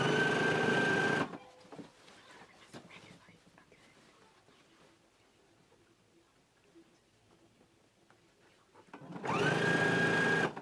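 Two short bursts of a sewing machine at the start and end, stitching bias tape close to its folded edge over jacket shoulder seams, with quiet handling noises and faint rustling between the runs.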